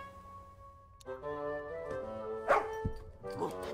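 A dog barks in the video game The Little Acre, a few bright barks and yips over a music-like tonal background, with a louder bark near the end and no spoken words.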